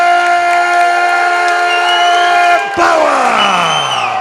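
A loud arena crowd at an Epic 47 MMA event roars and cheers steadily as a fighter is introduced, with sustained whooping and a swelling wash of noise near the microphone.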